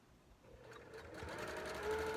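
A home sewing machine stitches steadily in a continuous mechanical whir with a fine rapid needle rhythm, close and gradually building in loudness, with no talk over it.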